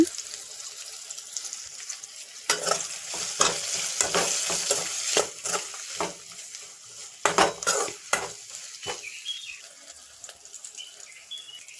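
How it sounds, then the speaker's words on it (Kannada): Onions sizzle in hot oil with salt and turmeric while a spoon repeatedly scrapes and stirs the pan, clanking irregularly up close. "ಈರುಳ್ಳಿಯೆಲ್ಲ ಚೆನ್ನಾಗಿ ಫ್ರೈ ಆದಮೇಲೆ"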